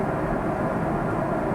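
Steady, even cabin drone inside an airliner in flight, a continuous broadband hum with no breaks or changes, moderately loud and unaccompanied by voices.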